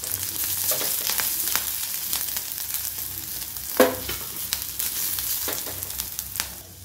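Green chili, chopped garlic and ginger sizzle and fry steadily in a pan for veg paneer momo filling, with sharp scraping clicks of a spoon stirring at irregular intervals, close up.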